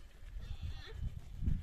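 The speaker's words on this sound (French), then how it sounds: "Il y en a un paquet de chèvres." A herd of goats on a farm in Morocco, with a few short bleats rising over low rustling and background noise, fairly faint and brief; a donkey may also be nearby.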